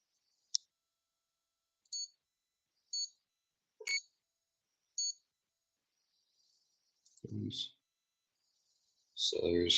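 A multimeter on a 2002 Yamaha WR250F motorcycle switch gives five short, evenly spaced beeps, faint and high-pitched, followed by someone speaking briefly.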